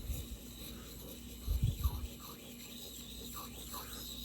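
Blade of a Case Stockman three-blade pocketknife rubbed on a wet sharpening stone, a soft, close rasping scrape with a brief louder burst midway, no talking.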